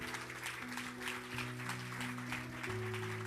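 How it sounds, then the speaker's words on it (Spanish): A church congregation claps for several seconds, a faint, steady patter of applause under sustained organ or keyboard chords. "Denle un aplauso al Señor."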